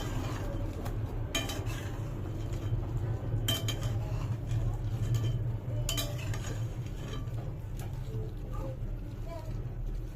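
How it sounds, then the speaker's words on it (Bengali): Chicken wings being stirred in barbecue sauce in a pan, with soft scraping and occasional utensil clinks over a steady low cooking hum throughout. "এবার একটু নেড়ে নেবেন।"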